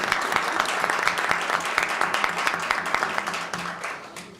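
Crowd at a public hearing on workplace moral harassment claps loudly and continuously, dense close applause that fades slightly toward the end.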